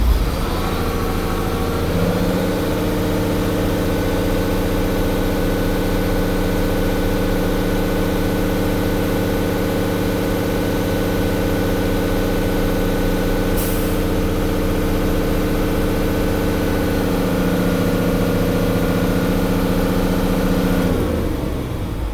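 A large diesel school bus engine idles steadily and loudly for about twenty seconds, a deep even rumble starting after a short pause and stopping abruptly at the end.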